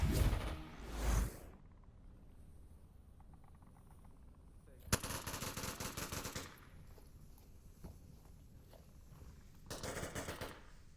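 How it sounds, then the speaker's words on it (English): Gunfire in the VR shooter Onward during a competitive match, with a few sharp bursts of shots separated by quieter stretches of ambient game sound. "Couple of shots going off."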